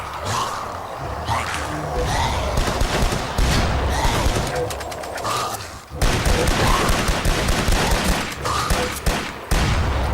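Gunfire from the VR zombie shooter Zombie Training Simulator, played on an HTC Vive, comes in dense, rapid bursts and volleys that run almost without pause, loud and close.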